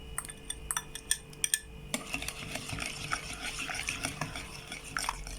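Batter for malva pudding, with apricot jam just added, is stirred in a bowl, giving steady scraping and clinking of a utensil against the dish, close and fairly quiet, after a few sharp taps at the start.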